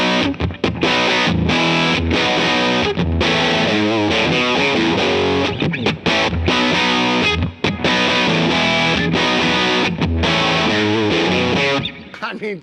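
A heavily distorted electric guitar rings out loud through an overdriven Ultraphonix, thick sustained chords and fuzzy riffs with no voices.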